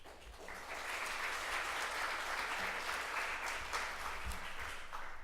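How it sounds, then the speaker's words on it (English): Sustained applause from an audience at a startup pitch competition day, a steady broadband wash of clapping lasting several seconds with no voices over it. "Please join me in providing a warm round of applause for their continued support of the competition."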